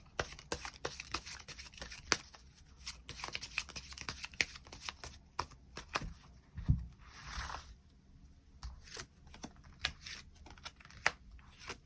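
Tarot cards shuffled close up, with soft riffling and quick sharp card snaps in an irregular rhythm, quiet and alone without talk.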